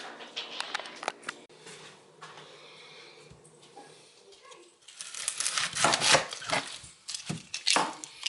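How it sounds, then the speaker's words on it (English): Rapid knife chops on a cutting board, quiet at first then louder, sharp repeated taps in uneven bursts with no talking. "I'm going to start my chopping"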